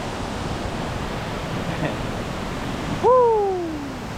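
A waterfall's rushing water makes a steady, broad roar throughout. Near the end a short, high, whistle-like call rises and then slides downward over it.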